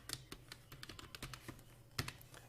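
Quiet, rapid clicks of a computer keyboard as someone types in a text editor, an uneven run of keystrokes with one firmer tap near the end.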